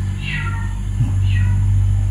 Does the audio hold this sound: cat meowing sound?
yes